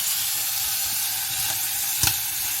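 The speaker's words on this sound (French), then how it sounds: "Donc là, je vais mélanger encore." Corn being stirred in a pan of hot oil, a steady sizzle of frying with soft scraping of a utensil and one brief louder clatter near the end.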